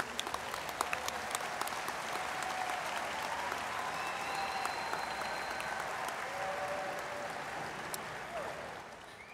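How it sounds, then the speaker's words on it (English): A large audience applauds at a high school graduation ceremony, a broad, sustained wash of clapping that fills the hall evenly, with faint cheers and voices mixed in. "Can we have a round of applause, please?"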